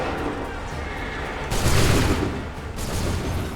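A musket volley from a line of soldiers in Assassin's Creed III erupts as a loud, rolling crackle of shots, followed by a second, smaller burst over a low background rumble.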